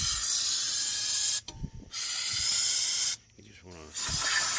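Spray blasts loose dirt, grime and oil off the brake caliper of a 2011 Jeep Grand Cherokee outdoors, as three loud hissing bursts broken by short near-silent gaps.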